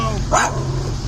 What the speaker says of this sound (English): Puppy dogs.